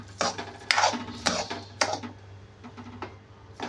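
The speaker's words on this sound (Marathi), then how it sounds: "आपण हलवून घेत आहोत" Beetroot halwa with sugar is stirred in a pan, giving a series of close, irregular metallic clinks and scrapes of the spoon against the pan, fading to softer taps toward the end.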